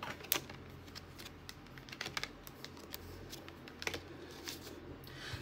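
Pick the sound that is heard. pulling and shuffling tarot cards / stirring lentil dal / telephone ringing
pulling and shuffling tarot cards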